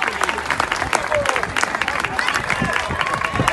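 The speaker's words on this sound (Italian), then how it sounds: "signori, un applauso per Ilariani!" Crowd applause at an outdoor village festival event in Monteroni di Lecce, dense steady clapping lasting throughout, loud and close with some voices mixed in.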